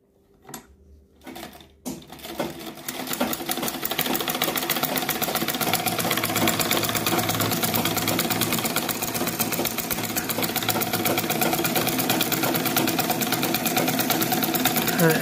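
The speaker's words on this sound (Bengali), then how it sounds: "এখন আমরা সুইং করব।" A Butterfly or Singer sewing machine with tension trouble, the bobbin thread showing on top, starts after a few faint clicks and then runs in one long, loud, continuous stitching hum that keeps going to the end.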